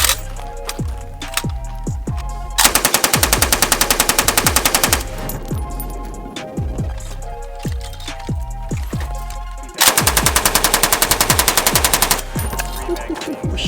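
A Rifle Dynamics AK-47 build fires in rapid automatic bursts, loud and close, with sharp repeated cracks and a few faster, denser runs of shots.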